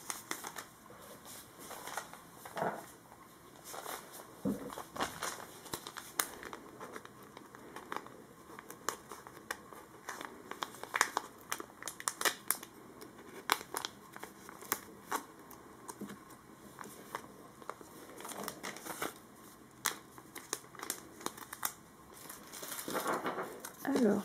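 An advent calendar package being opened, with quiet paper crinkling, rustling and small tearing sounds in irregular bursts over about twenty-four seconds, close by.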